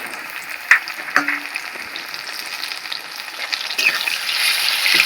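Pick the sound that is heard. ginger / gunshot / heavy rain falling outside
ginger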